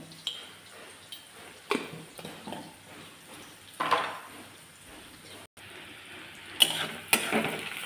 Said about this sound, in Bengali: পেঁয়াজটা আর একটু ভাজা হবে